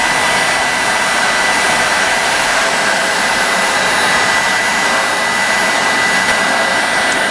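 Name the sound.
heat gun on full power heating plastic pipe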